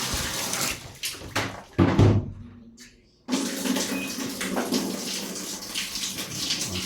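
Water rushes and gurgles steadily as a Samsung top-load automatic washing machine drains on spin, pausing briefly before surging back loudly and continuing to drain.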